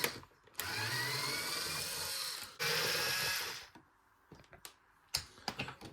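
Phillips screws being backed out of a Dyson V11 High Torque carpet cleaner head, heard as two sustained whirring bursts followed by scattered sharp clicks and taps, close and fairly quiet with no talking.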